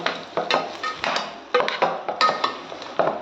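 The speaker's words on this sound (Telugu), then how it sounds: "వేసుకొని ఒకసారి ఇదంతా కూడా ఇలా కలుపుకోవాలి" Lemon pulihora rice being mixed in a pot with a metal spoon: repeated clanks and scrapes against the pot in an irregular rhythm, close and fairly loud, with no talking.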